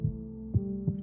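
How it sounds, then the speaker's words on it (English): Recorded heartbeat sound effect with soft, low thumps over a steady hum, three beats spaced evenly at close range and alone. "Here is the sound of your heartbeat."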